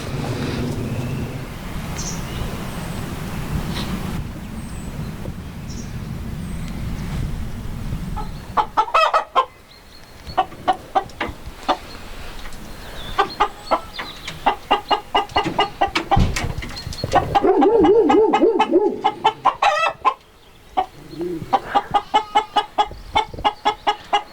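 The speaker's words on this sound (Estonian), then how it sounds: "mis kanu me vaatame?" Estonian native breed chickens clucking close by, starting under steady background noise and then coming through as repeated loud, clear clucks and calls with short pauses between them.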